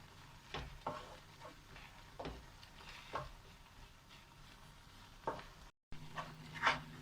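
Carrot halwa with milk being stirred in a pan as the milk reduces: quiet, irregular scraping strokes with soft sizzling between them, close and faint.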